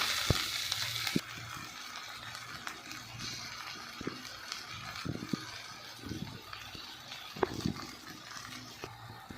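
Green tomato, onion and chilli sauté in a pan with a soft, low sizzle, punctuated by intermittent spatula taps and scrapes, fairly quiet and close, with no voices.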